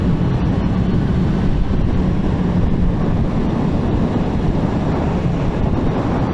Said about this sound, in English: the wind is pretty significant, so I can't really imagine highway traveling